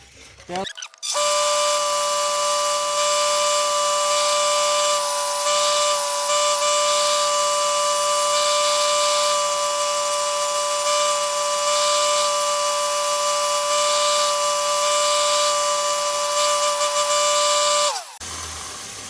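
A knife handle is hand sanded on a belt sander up to 1000 grit. The machine gives a loud, steady whine with a constant hum that runs unbroken for about seventeen seconds before it cuts off.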